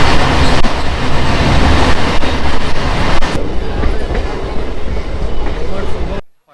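Local train in India running into Asansol, with a loud, steady rumble of wheels and carriages throughout, close and continuous before cutting off at the end.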